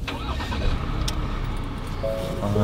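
A car engine is started with a key at a forest campsite, a steady loud mechanical rumble running throughout with a brief higher whine near the end.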